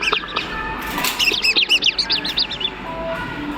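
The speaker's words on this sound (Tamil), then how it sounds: "பேர்ட்ஸ் கத்துற மாதிரி இருக்க பாருங்க" Bird sounds ring out in a toddler play area, likely from a musical play fixture: a quick run of bright, repeated chirps and tweets over a background hum, loud and close.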